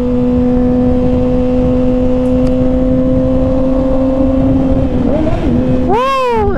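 A 2021 Kawasaki Ninja ZX6R KRT Edition with its baffle removed, revved under a small overpass on a night ride. A loud, steady droning idle holds throughout, then a sharp rev climbs and falls near the end.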